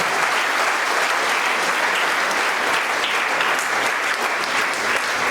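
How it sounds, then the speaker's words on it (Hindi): Loud, sustained applause from a large audience at a company celebration event in Mughalsarai, an even roar of clapping that stays at full strength throughout with no voices rising above it. "मैं चाहूंगा एक बार जोरदार तालियां होनी चाहिए, जोरदार।"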